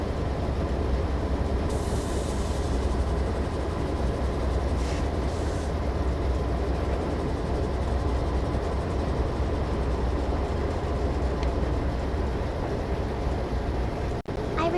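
Steady, loud train engine rumble from a railway simulator game as the locomotive accelerates down a gentle slope, a continuous drone with no pauses throughout.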